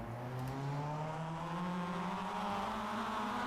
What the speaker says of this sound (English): The engines are revving